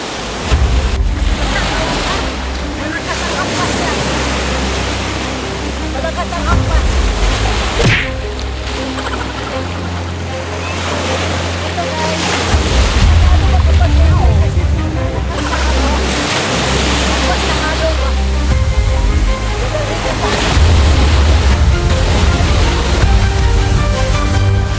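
Strong surf pounds the shore at Unawatuna beach, loud and continuous with heavy crashes rolling in every few seconds, and voices are faintly audible beneath the roar.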